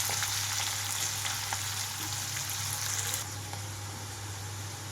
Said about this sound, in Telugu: ఉల్లిపాయలు కొంచెం కలర్ మారే వరకు వేయించుకోవాలి.